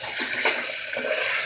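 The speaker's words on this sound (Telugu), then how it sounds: "గ్లాస్ వాటర్ యాడ్ చేసుకొని" A glass of water poured into a pressure cooker holding oil and spiced mutton liver masala, a steady splashing, gurgling pour that stays close and fairly loud through the whole moment with no talking.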